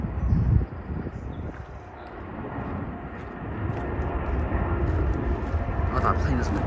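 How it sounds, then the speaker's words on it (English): An Air France Boeing 777-200 wide-body jet airliner passes at Vancouver International Airport, a loud broadband engine roar that swells and holds steady, with a person talking over it. "Air France 777-200 over to Paris."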